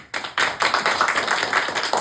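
A live street-magic audience claps to vote on a trick, with a burst of applause that starts abruptly and continues as steady, fairly close clapping for about two seconds.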